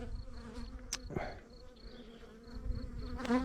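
Honeybees swarm close around a beekeeper at the hive, a dense, steady buzz with individual bees droning past near the microphone, a few sharp handling knocks in between.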